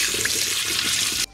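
Water runs steadily from a tap in a continuous broadband rush while a freshly caught bass is rinsed, close by, then cuts off abruptly at the end.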